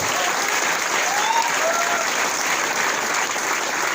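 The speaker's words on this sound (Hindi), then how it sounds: "माई लाइफस्टाइल के लिए जबरदस्त ताली होनी चाहिए" Seminar audience at a business training event claps enthusiastically, a steady dense roar of applause that holds at an even loud level for several seconds with no talk over it.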